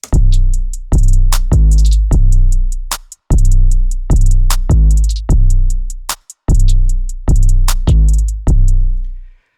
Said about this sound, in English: it's the pitched hi-hat